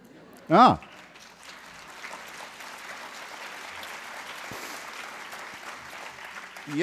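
An audience at a spoken talk applauds with a steady, moderate wash of clapping, after a brief vocal outburst near the start.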